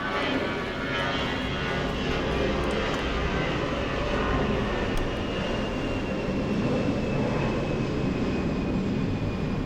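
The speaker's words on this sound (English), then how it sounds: "The plane sounds, there's nothing I can do about it." An airplane flies overhead with a loud, steady engine roar that fills the whole ten seconds without letup; no one speaks.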